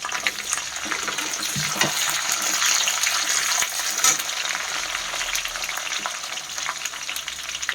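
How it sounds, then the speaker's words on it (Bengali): Cashews and raisins frying in a pan for basanti polao produce a loud, dense, crackling sizzle close up, with scattered pops and light stirring scrapes; no talking. "কাজু কিশমিশ অ্যাড করা হচ্ছে"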